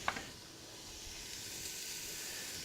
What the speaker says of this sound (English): You're going to want to saute off some garlic and some onions in here